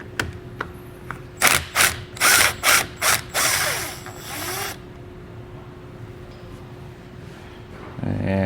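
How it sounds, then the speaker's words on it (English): A ratchet with a 10mm socket is turned to loosen the nut on a car battery's positive terminal. It gives a series of rapid clicking bursts in a regular back-and-forth rhythm, close and loud, and then a stretch of quieter handling. "We'll now use a 10mm socket to remove the nut from our battery positive here."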